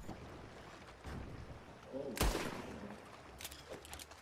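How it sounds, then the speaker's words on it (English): Gunfire in Red Dead Redemption Online aboard a boat, a sharp loud shot burst near the middle followed by a few fainter cracks, with some low background noise and voices of players nearby. "I'm about to shoot it."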